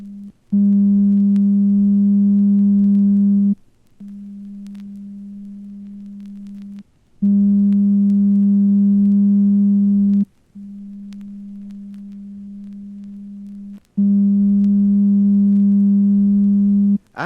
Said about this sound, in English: Listen as we play 2 pure tones, one softly, then one loudly.